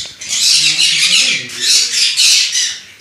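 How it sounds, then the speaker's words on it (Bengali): Conure parrots at a bird farm squawking loudly and close by in a rapid run of harsh, shrill calls that rise and fall over a few seconds. "দেখতে পাচ্ছি কিছু কনুর আছে।"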